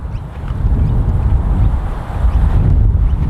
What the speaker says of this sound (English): It's about 40 miles an hour, straight into us, headwind, cross headwind.